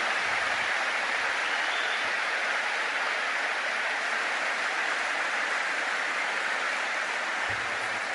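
A lecture audience gives a long, even wash of applause, continuous and hissing like rain, holding at a steady level throughout without any voices over it.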